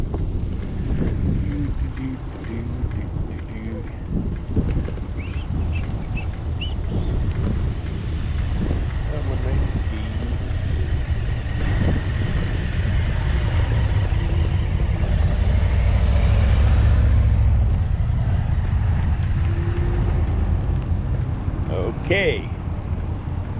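A vehicle rumbling steadily through a lap around Summerland Key Airport in the Lower Florida Keys, a loud continuous low engine and road drone with wind buffeting, while people talk briefly over it.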